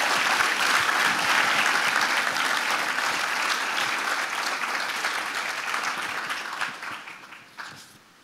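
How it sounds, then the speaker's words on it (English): A forum audience gives sustained applause that starts full and dense, then gradually thins and fades out toward the end. "One last bit of applause for my hero,"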